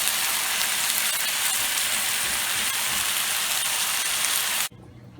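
Cornish hens fry in a pan, giving a steady, dense sizzle that hisses evenly close up for several seconds before cutting off abruptly near the end.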